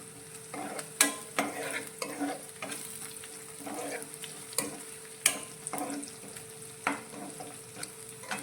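Three to four finely chopped garlic cloves and two chopped green chillies hit hot oil in a pan for a spring onion curry, with a steady soft sizzle and repeated light scrapes and taps of a stirring spoon.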